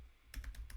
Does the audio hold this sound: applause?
no